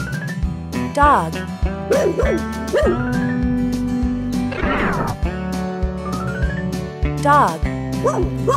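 Dog barks, yips and whimpers repeat loudly at close range in a preschool learning segment, mixed with voice-like sounds throughout.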